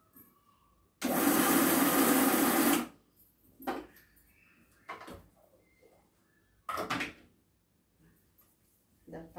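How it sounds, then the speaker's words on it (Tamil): A mixer grinder whirs loudly for about two seconds, grinding green chillies, then stops; a few shorter clatters and knocks follow in a quiet kitchen. "பச்சை மிளகாயும் அரைப்பட்டுருச்சு."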